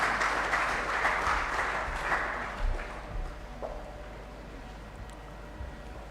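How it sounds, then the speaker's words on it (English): A round of applause greets Mr. Seth Akwabwa, chairman of the Aquaculture Ghana 2024 opening ceremony, as he is invited onstage; fairly faint, distant clapping that fades over several seconds, with a few low thumps. "please, let invite upstage with a round of applause, Mr. Seth Akwabwa"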